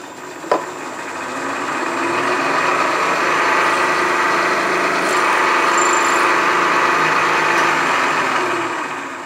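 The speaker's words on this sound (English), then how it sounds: "just do the spot drill. This is just an access hole for the set screw" Spot drill cutting a shallow access hole for a set screw in a machine spindle, part of a compact rotary broach build: a steady, loud whirring machining tone held for several seconds, starting with a sharp click and tapering off at the end.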